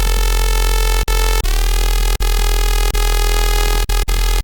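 A harmonic synth bass built in Serum 2 from a sine wave layered with a saw oscillator holds a loud, dense, sustained tone, cut by a few brief gaps, with nothing else heard.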